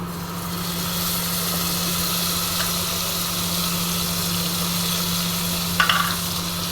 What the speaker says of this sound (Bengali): আগে থেকে বেটে রাখা কাঁচা লঙ্কা, রসুন, আদা আর অল্প পেঁয়াজ বাটাটা দিয়ে দেব